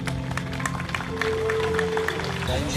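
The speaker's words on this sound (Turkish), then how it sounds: "Efendim kuvvetli alkışlarınız eşliğinde." Audience at a Turkish cuisine week event in Mersin applauding steadily, a dense patter of clapping hands filling the room while a voice speaks over it.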